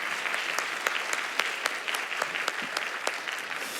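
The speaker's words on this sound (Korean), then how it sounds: "박수 올려드리도록 하겠습니다." A church congregation at a Sunday worship service gives a round of applause, a fairly quiet, steady crackle of many hands clapping with a few louder claps standing out.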